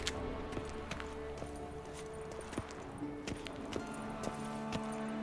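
Rhythmic hoofbeats of a horse in The Witcher 3, steady clip-clop strikes repeating over several seconds against a low ambient backdrop with faint tonal music.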